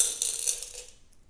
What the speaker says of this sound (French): Je tire une seule amulette.